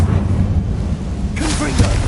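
A Confringo explosion spell goes off in the video game Hogwarts Legacy, one burst landing midway through over a constant low rumble of game noise, with a voice calling out around it.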